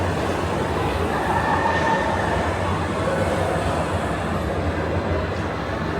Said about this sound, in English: There goes the monorail, everybody.